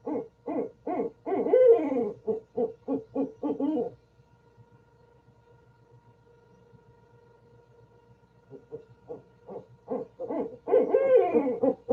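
Two owls hoot back and forth in rhythmic bursts of rapid calls, a pause of near silence between, then the duet resumes.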